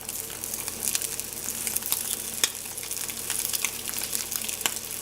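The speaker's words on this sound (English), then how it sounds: "I'm just going to saute this." Vegan turkey slices sauté in a hot pan with a crackling, bubbly sizzle, scattered sharp pops and spits rising over a constant frying hiss.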